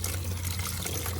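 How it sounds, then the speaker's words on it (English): Fresh water poured into a waterer in a large chicken coop: a brief, steady splashing and trickling rush, close and even, with no talk. "Gives them some fresh water."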